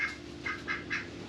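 A few ducks quack in three or four nasal bursts close by, over a quiet steady background hum.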